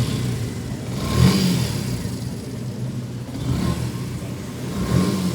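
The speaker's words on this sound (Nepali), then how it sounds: "अब बाइकको हामीले केमचेन र केमचेन एडजस्टर फेरिसकेको छौं र फाइनली साउन्ड सुन्न सक्नुहुनेछ" A Yamaha FZ V2 motorcycle engine, fresh from a cam chain and cam chain adjuster replacement, revs in two loud rising surges separated by a steadier idle, with no ticking or knocking and nobody talking.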